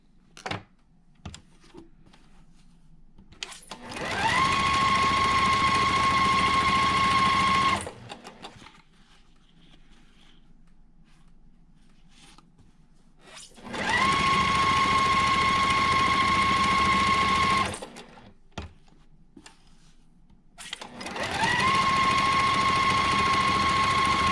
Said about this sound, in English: I'm just lining those squares right sides together, sewing on each side of that drawn line